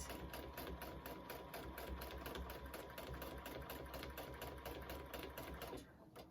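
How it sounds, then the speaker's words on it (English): A sewing machine runs steadily, stitching a multi-dog fabric collage with fast, even needle strokes throughout, slowing and quieting just at the end. "I was fighting with the sewing machine because when I'm trying to push it through"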